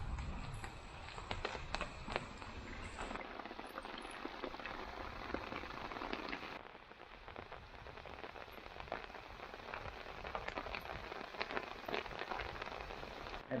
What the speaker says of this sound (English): Rain's blowing in here sideways.